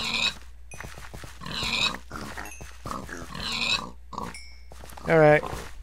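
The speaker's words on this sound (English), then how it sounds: "Too many pigs." Pigs in the Minecraft TFC mod grunt and squeal in several bursts, fairly loud and close, ending with a sharp high squeal.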